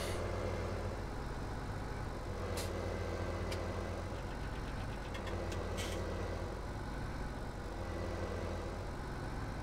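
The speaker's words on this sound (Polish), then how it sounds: "słychać fajnie teraz pracuje ten ciągnik" A tractor engine in Farming Simulator 17 idles steadily with a deep, rumbling drone, a few faint clicks and ticks on top, no voices.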